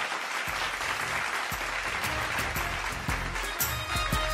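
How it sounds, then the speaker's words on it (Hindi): Sustained applause from a crowd at a poetry recitation competition final, steady and loud throughout, with dense clapping and a few sharper claps standing out. "जोरदार तालियां निकिता के लिए।"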